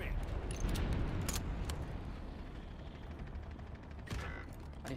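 Rapid bursts of gunfire crackle through a video game shooter, dense and continuous with sharp individual shots standing out, fairly quiet overall.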